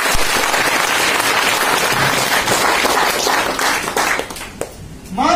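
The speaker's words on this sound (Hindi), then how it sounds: "नवीन भाई के लिए जोरदार ताली" Indoor audience at a product-knowledge sales meeting breaking into loud, dense applause for several seconds, fading out toward the end as a voice starts to speak.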